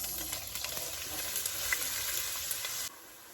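Onions hitting warm oil in a pan for Nigerian meat pie: a close, bright crackling sizzle with scattered pops, running steadily before cutting off abruptly near the end.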